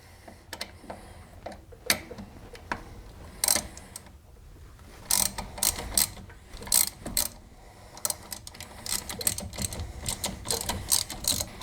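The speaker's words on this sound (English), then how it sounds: "So we'll move on to removing the caliper." Caliper bolts come off the front brakes of a 2000 Chevy Silverado with a ratchet, heard as close, sharp clicking bursts in irregular runs, with handling clanks between them.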